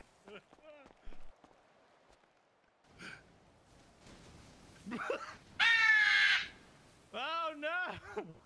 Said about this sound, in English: Oh, James, did you see the bird over there?